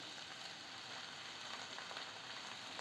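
Garlic cloves, sliced onions and chopped tomatoes toasting in a pan, giving a faint, even sizzle that holds steady throughout with no voices.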